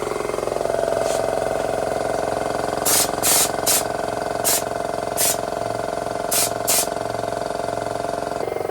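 An aerosol can sprays texture coating onto the underside of a Ford Escort Cosworth, a loud hissing stream with several short bursts over a steady motor-like hum, close by.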